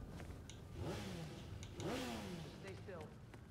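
A motorcycle engine in the video game Gotham Knights revs twice in rising surges over a continuous hum, sitting quietly beneath a voice talking over it.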